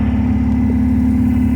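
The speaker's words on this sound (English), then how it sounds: "So I don't know why it's revving a little high." An MGB car engine idles slightly high, a steady continuous hum running unchanged throughout without any talking.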